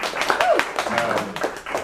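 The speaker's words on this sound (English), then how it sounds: "That is the most applause that we get." Brief audience applause and scattered clapping at a poetry reading, mixed with laughter and a voice speaking over it throughout the short burst.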